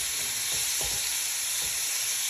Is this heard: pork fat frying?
yes